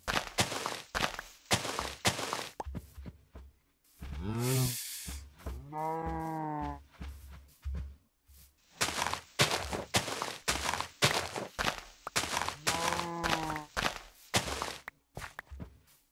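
Cows in the video game Minecraft give several drawn-out, pitch-sliding moos, two in quick succession and another later, mixed with soft blocky footstep thuds and short clicks between them.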